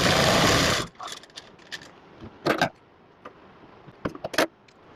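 Sewing machine stitching a palazzo hem runs in a loud continuous whir for under a second, then stops, followed by faint clicks and fabric handling sounds.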